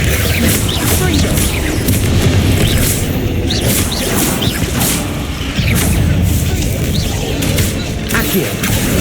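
Confringo fire spell blasts in the Hogwarts Legacy video game, with repeated loud booms and crashes layered over dense battle noise and shouted voices throughout.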